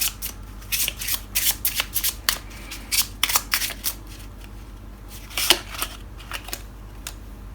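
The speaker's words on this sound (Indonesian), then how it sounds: "Kita akan ambil 5 kartu ya" Tarot cards being shuffled and drawn from the deck during a reading, heard as close, crisp riffling bursts and flicks in irregular clusters with short pauses between them.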